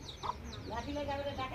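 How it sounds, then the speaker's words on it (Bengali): A village chicken clucks close by in a short burst of soft calls. Pigeons are being fed nearby, and some faint background noise sits under the clucking. "এই যে মুরগিটা ডিস্টার্ব করতেছে এখানে"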